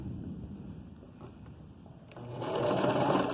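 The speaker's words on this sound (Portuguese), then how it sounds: "eu gosto de abaixar a agulha, ó, segurar o tecido, pronto, aí eu começo a costurar" A sewing machine starts stitching fabric, its rapid steady mechanical whir rising suddenly after a quiet stretch of handling and running loud and close to the end.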